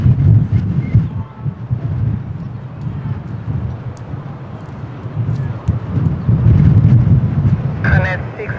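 Strong wind buffets the microphone at Lisbon Airport in low rumbling gusts that surge and ease, loud and close, with a faint distant aircraft tone toward the end.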